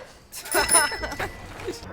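A doorbell rings briefly in the Scooby-Doo 2: Monsters Unleashed film: a short, bright bell-like chime near the start, with voices talking around it.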